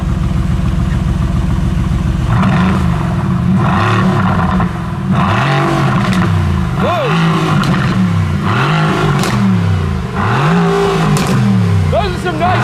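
Mercedes-AMG GT R V8 engine revved in several sharp blips, loud and close, each rising and falling with turbo whistles between, as people exclaim and talk over it.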